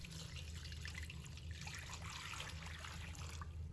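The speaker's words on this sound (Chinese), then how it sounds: "再倒入清水" Clean water poured over raw oysters in a bowl to wash off salt and slime, a continuous close trickle and splash with faint watery gurgles, steady throughout and no talking.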